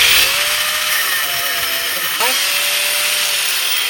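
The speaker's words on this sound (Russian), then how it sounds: "Давай я все-таки гайку здесь срежу, чтобы можно было, чтобы она не отстрелила мне по рукам." A handheld power tool whines steadily as it cuts through a nut on a Lexus RX400H rear stabilizer link, loud and close, with its pitch dipping under load and a voice occasionally heard over it.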